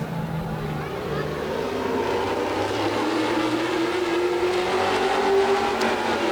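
Modified race cars roaring together under green flag at a TSS feature race, a steady, loud engine drone with one rising engine note swelling through the pack.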